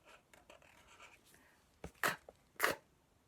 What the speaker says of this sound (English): I'm going to write a P.